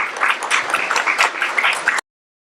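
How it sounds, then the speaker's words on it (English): An audience claps for a set of panels at an investor event's closing ceremony, with dense applause holding steady for about two seconds before it cuts off abruptly. "I want you guys to please say thank you to all the panels with your applause"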